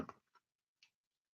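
A bird-shaped wall clock ticks softly indoors. A few faint, sharp ticks follow a brief bump.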